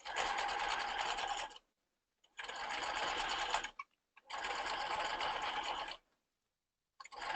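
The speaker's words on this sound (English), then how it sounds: "So we're going to stitch this edge." A sewing machine runs along the edge of a men's ballet tunic in three long, even bursts of steady stitching. Each burst is separated by a short silence, and a fourth run starts at the end.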